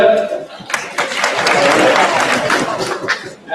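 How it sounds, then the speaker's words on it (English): An audience claps in a dense burst of applause that swells and fades, with crowd murmur mixed in around it. "Please hold your applause until the whole group is standing."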